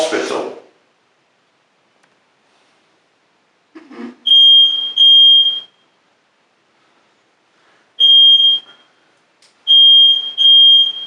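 Electronic smoke alarm in an old Welsh farmhouse, emitting loud piercing paired beeps repeated in bursts with quiet gaps between, with a little rustling and movement nearby.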